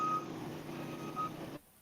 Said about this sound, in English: Even if it's beeping loud, I'm still curious.